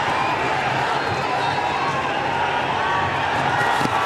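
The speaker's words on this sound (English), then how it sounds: "Certainly gives the crowd plenty to cheer about" A stadium crowd cheers after a goal in a men's field hockey semi-final between India and England at the 2010 Commonwealth Games, a dense continuous roar of voices heard from within the stands.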